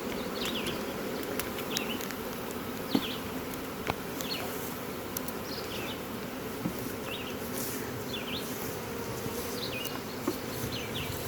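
About 300 honey bees shaken down into a half-cup measuring container for mite testing hum and buzz in a steady, close swarm drone, with occasional faint taps and light clicks.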